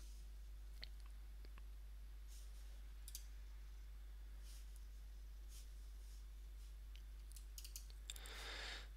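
Faint, sparse clicks of a computer mouse, a few isolated taps scattered over a steady low hum, with no talking.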